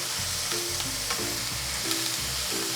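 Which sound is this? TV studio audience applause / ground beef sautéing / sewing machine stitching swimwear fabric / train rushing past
ground beef sautéing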